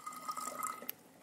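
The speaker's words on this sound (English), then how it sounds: "which I will then pour in my lemon juice" Lemon juice poured into a clean bottle, a soft, quiet trickle and gurgle of liquid filling glass for about a second, ending with a faint clink.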